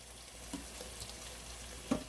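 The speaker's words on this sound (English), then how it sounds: "the squash. You can't see them, but you can hear them. They're cooking nicely." Squash sizzling gently in a pan as part of a soul food Sunday dinner, a soft steady hiss with faint crackles and a couple of small pops, fairly quiet and without voices.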